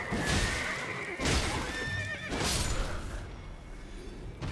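A horse in the video game Elden Ring whinnies in a fight, with three loud neighs in quick succession among thuds, hoofbeats and combat noise, all close and prominent.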